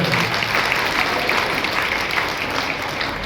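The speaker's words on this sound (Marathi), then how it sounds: "आपण सर्वांनी एकदा ताईसाठी टाळ्या वाजवा" A crowd applauds steadily at a Women's Day award ceremony, dense clapping filling the whole moment without pause.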